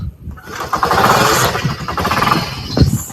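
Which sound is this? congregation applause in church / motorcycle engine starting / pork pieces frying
motorcycle engine starting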